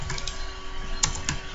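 Typing on a computer keyboard during a PHP coding lesson, sparse key clicks with a couple of sharper taps near the end, heard close up over a steady background hum.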